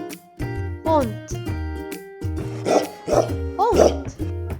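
A voice imitates a dog barking, repeating short "woof"-like yaps in a lively childlike tone during an Afrikaans first-words lesson, several bursts close and clear.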